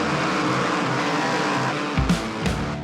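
Modified race car with a 600 horsepower engine on a racetrack, a steady loud engine roar with two brief sharp surges or passes near the end.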